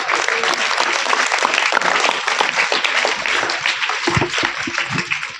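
Large crowd applauding steadily at a motivational seminar in a school, dense continuous clapping that fills the whole span with a few sharper individual claps near the end.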